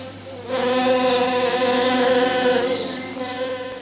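A single bee hovers close by around a flower, giving a continuous, even buzz that swells slightly and then fades a little, with no other sounds.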